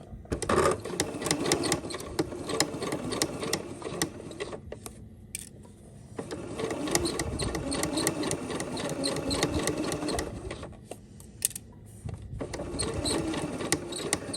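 Sewing machine running long basting stitches along a centered zipper, a fast steady mechanical whir in several bursts with short pauses between, close and fairly loud.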